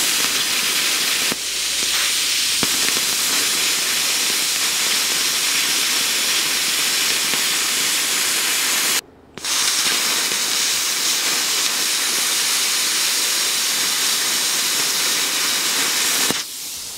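An R-Tech P31C plasma cutter slices through 2.5mm aluminium with a loud, steady roaring hiss that runs almost unbroken, stops briefly midway, then resumes until near the end.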